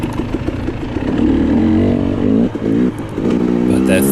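A 2022 KTM 300 XC-W two-stroke dirt bike climbs a hill at a hare scramble race at Lake Sugar Tree, its engine loud and close, revving and bogging with clutch feathering, with wind noise over it.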